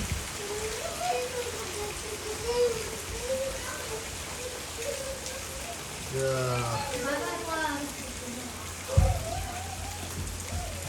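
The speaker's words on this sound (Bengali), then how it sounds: "কি পরিমাণে বৃষ্টি হয়েছে দেখেন" Heavy rain pours down steadily during a storm, a constant dense hiss throughout, with people talking over it and a brief thump near the end.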